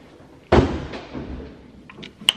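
A single loud wooden thunk of drawers being shut in an apartment kitchen, followed by a fading rumble and a couple of faint small knocks near the end, with no talking.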